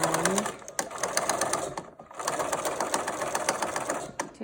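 A sewing machine straight-stitches a fabric mask in fast rattling bursts, running loudly, pausing briefly, then resuming for a second run close by.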